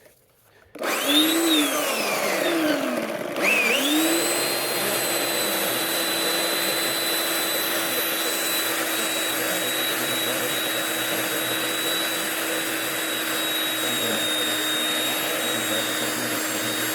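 A chainsaw revs up from silence into a loud, continuous high whine. It dips briefly and spins back up, then holds a steady drone while cutting, close and alone with no talk.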